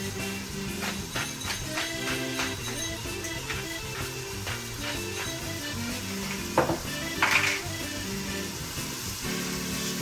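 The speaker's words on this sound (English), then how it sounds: "Stir that together and watch as the onions kind of disappear." Onions, bacon, salt and black pepper sizzling in a pot while a spoon stirs, steady frying hiss with repeated scraping and clinks of utensil against metal, close up, no voices.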